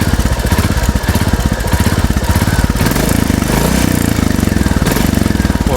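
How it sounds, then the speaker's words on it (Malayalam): A Royal Enfield Classic 350 big single-cylinder engine idles through its stock exhaust, a loud, steady, close thumping pulse that runs unbroken on its own. "ആ ക്ലാസിക് 350 എക്സോസ്റ്റിലോട്ട് കേൾക്കാൻ കൊള്ളാം"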